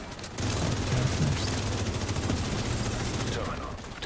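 Sustained video game gunfire aimed through a tiny gap, a dense continuous rattle of rapid shots at steady loudness, with no voices over it.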